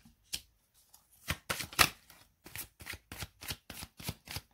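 Tarot cards are shuffled by hand before a reading, giving a quiet, close run of crisp flicking and slapping bursts that grow into a steady rhythm. No speech.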